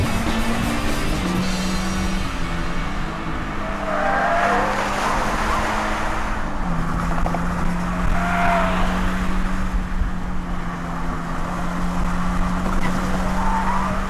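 A Toyota GT86 sports car laps a race track, its engine holding a steady loud drone with shifts in pitch as it changes gear, plus occasional tire squeal through the corners, with no voices.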